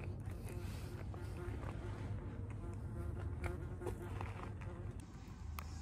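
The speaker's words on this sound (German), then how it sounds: "Und kaum fängt man an zu essen, kommen von überall irgendwelche Wespen" Wasps buzz around someone eating a döner outdoors in Konstanz by Lake Constance, a faint thin whine over a low steady background rumble.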